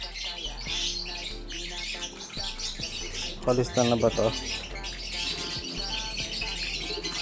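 Pigeons handled by a fancier, with soft coos and a flurry of wing flaps in the middle, under close talk.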